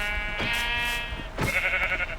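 Sheep bleats from a video game farm scene, a long wavering bleat followed by a second shorter one about a second later, close and clear with no talk over them.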